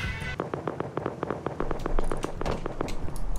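A rapid string of sharp, evenly spaced gunshot bursts, like automatic fire in the game Rust, continuing steadily over a noisy background.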